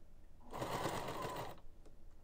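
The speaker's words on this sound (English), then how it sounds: "put the fabric in the sewing machine where the stitching is missing, and you do a quick little forward stitch and then back stitch" A sewing machine runs a quick stitch through clothing fabric to mend a gap of missing stitches, a close, steady whirring hum lasting about a second, with faint clicks before and after.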